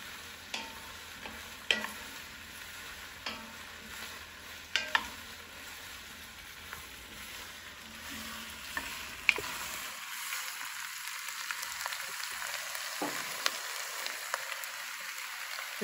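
Onions sizzle in olive oil in a pan over medium heat, a soft continuous frying hiss broken by frequent sharp scrapes and clatters as they are stirred and tossed.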